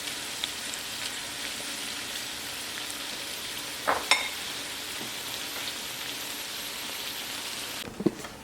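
Potatoes and onions fry in a pan for a Spanish tortilla, a soft continuous sizzle and crackle with a couple of brief louder scrapes of stirring.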